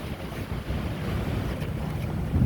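Strong wind buffets the microphone in a steady, loud low rumble that swells slightly near the end, during cleanup after Hurricane Zeta, with no voices.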